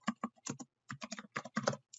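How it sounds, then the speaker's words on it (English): A command is typed on a computer keyboard: quick, close key clicks in short clustered runs separated by brief pauses, heard alone without speech. "So what you would just want to do is type this command"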